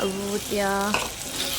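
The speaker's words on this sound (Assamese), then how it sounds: "এতিয়া চিকেনখিনি মই অলপ দেৰি ভালকৈ ভাজি থাকিম মছলাতে" Marinated chicken frying in spiced masala paste in a pan, a steady close sizzle running under a person talking throughout.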